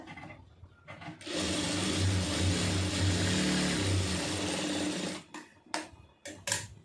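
A sewing machine runs stitching through doubled fabric in one continuous whirring burst of about four seconds, close and even, framed by quiet handling noises before and after.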